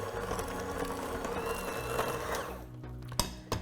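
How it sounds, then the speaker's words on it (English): Thick peaches-and-cream cake batter with regular sugared pudding mix is beaten in a bowl, making a steady close motor whir that stops near the end, followed by a couple of faint knocks. "Mix those ingredients together well."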